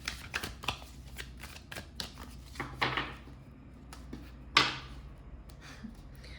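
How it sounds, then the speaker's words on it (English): A Cat Tarot deck mixed with oracle cards is shuffled by hand, producing soft, rapid riffling bursts and card flutters in an uneven rhythm, close up and quiet, with one sharper snap near the end. "So I'm going to go ahead and shuffle this and some oracle cards out"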